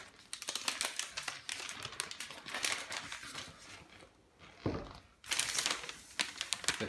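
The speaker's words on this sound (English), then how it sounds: "Get the plastic out of the way" Plastic wrapping being pulled and peeled off an Apple HomePod package, crinkling and rustling in close bursts with a short quieter pause midway.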